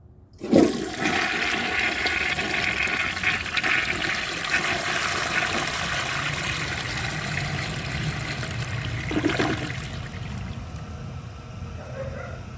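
A 1939 Standard Modernus toilet flushes a washcloth, opening with a sharp release and then a loud, steady rush of water that roars close by for several seconds before easing as the bowl refills.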